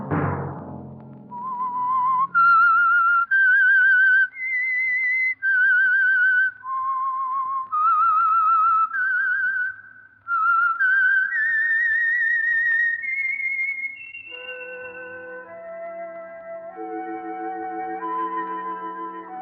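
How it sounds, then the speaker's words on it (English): A lone human whistler performs the eerie signal theme of the 1948 radio mystery program The Whistler, a slow, clear melodic line of sustained notes with a little echo, followed by a soft orchestral phrase. "Let that whistle be your signal for the Signal Oil program, The Whistler"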